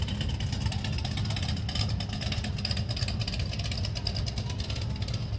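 A Dodge Charger with an aftermarket exhaust rumbles past in a 2024 Fayetteville Christmas parade, its deep, steady engine drone holding at a loud, close level throughout.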